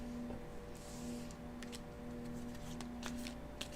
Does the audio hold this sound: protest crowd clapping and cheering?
no